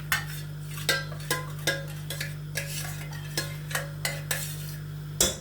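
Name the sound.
adding ghee to cooking pot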